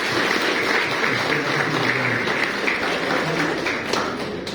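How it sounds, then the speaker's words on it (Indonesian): Audience applause, a dense, steady clapping from a large crowd that fills the whole stretch at a fairly loud level. "kita kasih tepuk tangan yang meriah"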